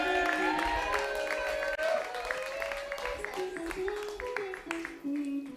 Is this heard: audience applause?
yes